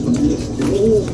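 A racing pigeon cooing close by, with a few soft, low, rolling coos in quick succession.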